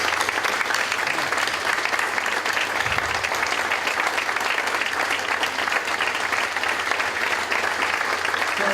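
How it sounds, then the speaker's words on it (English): Sustained applause from a crowd at a college courtyard honor ceremony, steady and even throughout, with a brief low thump partway through. "let's give them a Golden West College applause"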